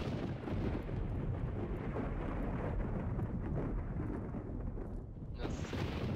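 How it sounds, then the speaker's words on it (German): Thunder from a lightning strike landing two blocks away in the Minecraft video game, a dense continuous rumble with heavy rain-like noise sustained throughout, brief tonal blip near the end. "zwei Blöcke neben mir ist ein Blitz eingeschlagen"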